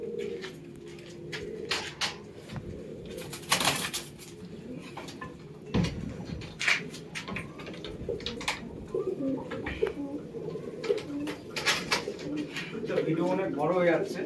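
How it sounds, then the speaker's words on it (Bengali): Doyaj breeding pigeons coo continuously in a home loft, their low throaty calls close and layered, with someone talking over them and occasional clatters and wing flutters. "এই দোয়াজ পায়রা"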